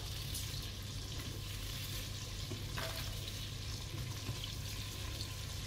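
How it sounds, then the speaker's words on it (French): Onions sautéing in a Cookeo electric pot give a steady, dense sizzle that holds evenly throughout, close and fairly loud, with no one talking. "On va pouvoir mettre les oignons, faire revenir tout ça."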